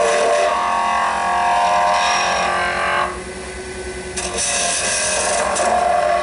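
A wood lathe spins a bottle stopper blank while a chisel cuts into it, giving a steady loud whirring hum with a scraping edge that dips briefly midway, then resumes.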